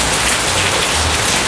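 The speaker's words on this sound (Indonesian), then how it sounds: "ada sedikit suara hujan" Steady rain falls outside a house, a dense, even hiss of drops on surfaces that stays loud and unbroken throughout with no voices.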